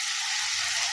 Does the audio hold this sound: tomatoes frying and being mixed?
yes